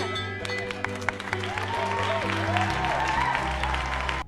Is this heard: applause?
yes